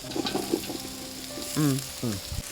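Big onions frying for beef ribs biryani, a steady close sizzle with brief stirring scrapes and a voice speaking over it near the end.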